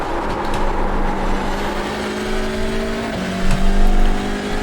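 A Hyundai Elantra TCR race car at Knockhill in the iRacing game drones loudly at high revs, its engine note holding steady, then dropping with a gear change and climbing again under acceleration.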